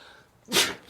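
A single sharp sneeze bursts out close to the mic during a talk recording, brief and loud against a quiet room with faint background hum.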